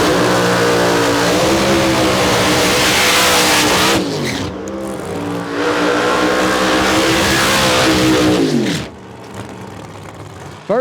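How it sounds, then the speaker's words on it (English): Drag racing cars at National Trail Raceway idle, rev and roll around to turn back toward the lanes, a loud layered engine rumble with rising and falling revs that briefly dips midway and drops off near the end. "Go back there, get your cars turned around."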